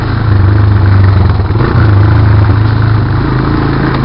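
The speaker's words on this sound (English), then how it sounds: "Damn trailer's noisy" Loud engine drone from a Honda Recon quad runs steadily with a rattling trailer behind it, a dense low rumble and clatter close to the microphone for the whole stretch.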